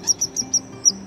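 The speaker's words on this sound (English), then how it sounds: "These kingfishers are courting." Courting kingfishers give a series of about six thin, high, sharp piping calls at regular intervals, clear and fairly close.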